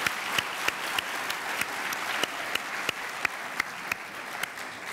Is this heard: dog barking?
no